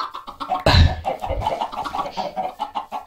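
Chickens clucking in the video game Minecraft, a burst of short fowl clucks near the start that fades under a steady busy game background.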